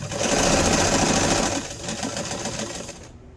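Sewing machine running fast and steady up close as it stitches a heart onto a gift tag, easing off briefly midway and stopping just before the end.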